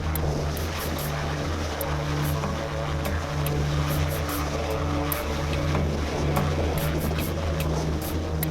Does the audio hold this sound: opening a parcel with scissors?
no